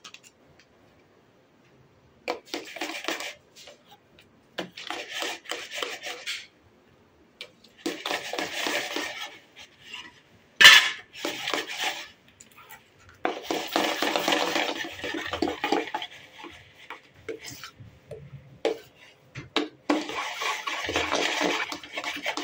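Brownie batter with cocoa powder is mixed quickly in a bowl, producing bursts of scraping and clinking utensil strokes against the bowl, separated by short pauses.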